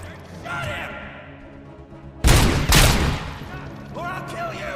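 Gunfire in Robocop: Rogue City, a loud burst of rapid shots in the middle with a second volley close behind, framed by talk before and after.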